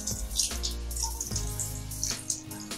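Tap water runs and splashes steadily into a sink while quail are washed with salt, close and continuous with faint clinks and sloshing over the short stretch.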